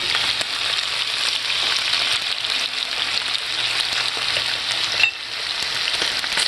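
Garlic lemon chicken fries until crispy in a pan, a loud, constant close-up sizzle that crackles steadily for several seconds with no talking.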